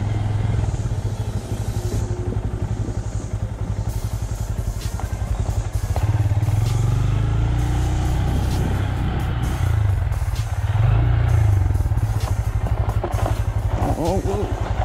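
Honda Grom motorcycle ridden outdoors, its small engine producing a continuous, close, throbbing drone with rhythmic clatter and occasional thumps, with a rider talking over it at times.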